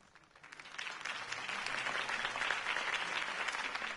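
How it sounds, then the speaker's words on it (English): Crowd applause after Harvey Dent's campaign speech in a Batman video game, swelling from a quiet start into steady, dense clapping that holds for several seconds. "If only Mr. Wayne, my campaign's largest backer, could have heard that applause"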